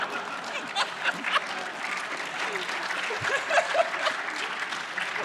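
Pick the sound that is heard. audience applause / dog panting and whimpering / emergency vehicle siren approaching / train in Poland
audience applause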